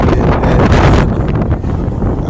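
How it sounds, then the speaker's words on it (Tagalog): Strong, cold wind buffets the microphone beside a small lake in the hills of Infanta, Quezon, in loud, rumbling gusts, roaring heavily then easing a little toward the end. "Lamig ng hampas ng hangin."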